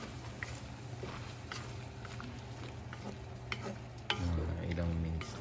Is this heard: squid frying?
yes